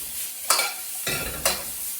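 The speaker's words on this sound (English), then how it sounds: "So we sizzle, just cook through the vegetables." Carrots and mixed vegetables sizzling as they are stir-fried in a pan at home, a steady close crackle with brief louder hisses as the food is tossed, no voices.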